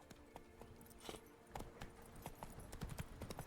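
Roach, the horse in The Witcher 3: Blood and Wine video game, trots with faint, irregular clip-clopping hooves that grow a little busier toward the end, heard against a quiet game background.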